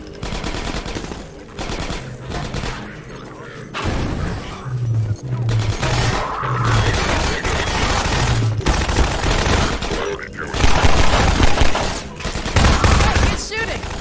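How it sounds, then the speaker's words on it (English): Bursts of automatic gunfire in Half-Life 2 Episode One crack out in repeated volleys, mixed with heavier booming shots and brief pauses between exchanges. "He's shooting."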